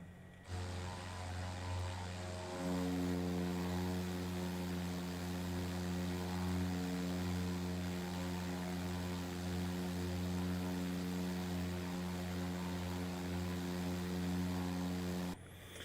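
Diamond DA-40 single-engine propeller aircraft climbing out, its engine a loud steady drone with a strong even hum that rises in power after a couple of seconds and holds constant, heard from inside the cabin.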